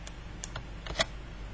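Key clicks on a computer keyboard during firewall setup in Check Point software, a few scattered taps followed by a single slightly louder Enter press, all quiet and close with no talking.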